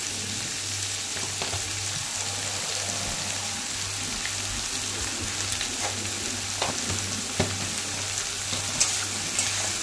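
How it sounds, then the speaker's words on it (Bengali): Onions and noodle mix fry in a pan with a continuous rain-like sizzle, broken by occasional clacks of stirring and scraping, close and steady with no talk. "সব কিছু আবার ভালো করে নেড়েচেড়ে মিশিয়ে নিচ্ছি"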